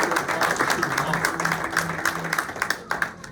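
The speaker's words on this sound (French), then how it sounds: "on va passer devant et on va applaudir chaudement" An audience at an annual convention claps warmly, a moderate patter of many hands with uneven bursts, while a voice talks over the clapping.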